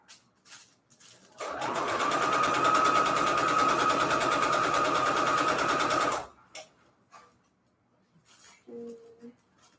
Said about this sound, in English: Just trying to keep my seam going all the same way the whole time.